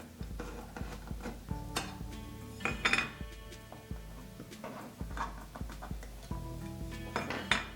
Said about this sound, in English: Make sure you stir each one.